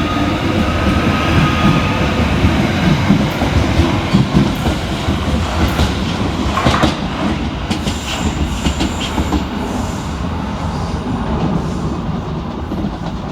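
Merseyrail Class 777 electric train departing a station, a loud steady rumble with clattering wheels that gradually fades as it pulls away, no voices.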